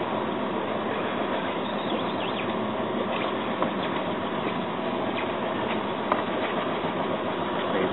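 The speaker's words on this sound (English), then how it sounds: "back into neutral. And turn the motor off." Small boat outboard motor idling at a dock on Lemon Bay, a steady close low puttering drone that runs unbroken with a couple of faint knocks.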